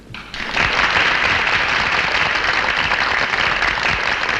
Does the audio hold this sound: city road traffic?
no